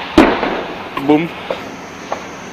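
An anti-tank guided missile explodes at a distance in a combat zone, a single sharp boom followed by a few fainter thuds and pops, with people talking nearby.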